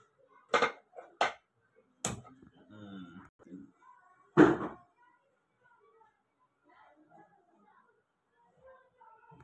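Metal pots and pans clank on a home gas stove while chicken champaran is being cooked. A few sharp, separate clatters ring out over several seconds, with quieter handling noises and faint talk in between.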